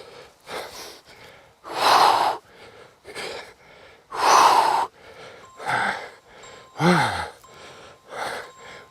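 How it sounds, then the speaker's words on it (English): Heavy breathing during split squat exercises outdoors: loud, forceful rhythmic exhales and gasps in repeated bursts roughly every second, close to the microphone. "Should be breathing hard."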